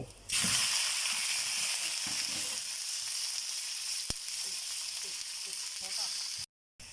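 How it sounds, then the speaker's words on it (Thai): Pork is stir-fried in a pan for pad kaprao. A bright, steady sizzle runs throughout with occasional scraping and clatter, then cuts out abruptly near the end. "แล้วก็ผัดจนให้หมูสุกนะครับ ผัดไปเรื่อยครับจนหมูมันคลุกเคล้าแล้วมันสุก"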